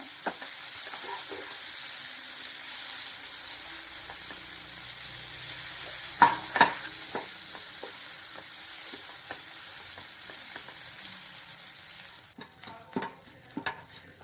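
Potatoes fry and get stirred in a pan, with a steady sizzle running throughout and a few sharp scrapes of the spoon breaking them up. It is moderately loud and close, and no voices are heard.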